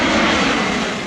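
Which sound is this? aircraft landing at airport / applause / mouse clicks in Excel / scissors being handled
aircraft landing at airport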